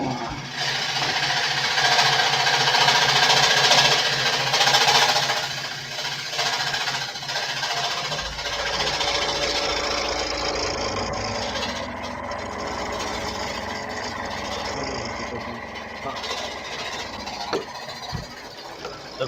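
DeWalt scroll saw cutting during a scroll-off competition, a steady mechanical buzz with rapid reciprocating vibration, loud and close at first, then continuing at a lower level with some clatter.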